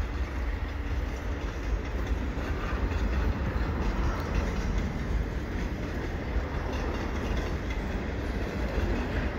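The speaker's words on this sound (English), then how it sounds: "Something magic about a train in inclement weather." Continuous rumble and rhythmic clatter of a freight train with three locomotives rolling past nearby at night in winter weather, steady and loud throughout with no voices.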